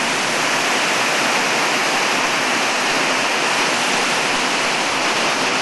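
The River Avon pours over the weir in Bath in a loud, continuous broadband rush of falling water, close and unbroken, with no voices.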